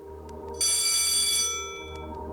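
A phone booth telephone in Disney Infinity 3.0 rings with a bright, sustained electronic bell tone that starts abruptly and holds steady for about a second before easing back into game background ambience.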